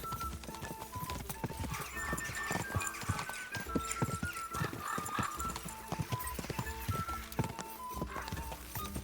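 Steady galloping horse hoofbeats from the video game Kingdom Come: Deliverance drum rapidly and continuously over background music.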